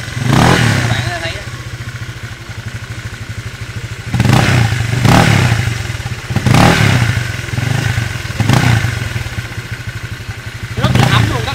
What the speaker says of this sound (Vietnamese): test tiếng bô cho các bạn nghe xem như thế nào